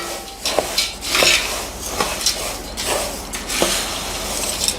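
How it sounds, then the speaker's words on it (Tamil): A spice mixture for a homemade savory snack is stirred in a metal pot, producing repeated scraping and clanking strokes of a utensil against the vessel, close and fairly loud. "இப்போது நல்லா கலந்து விட்டுக்கோங்க."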